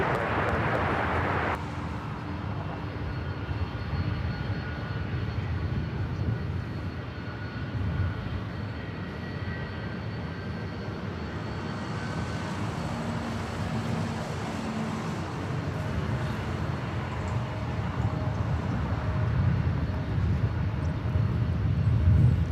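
Jet airliner landing on runway 24 right at LAX, a steady broad roar throughout, heard from a distance with a rising whine and rumble.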